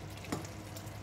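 Yogurt sautéing over medium heat in a curry gravy for shahi paneer, a faint, soft sizzle with a light stir clink partway through, brief and close.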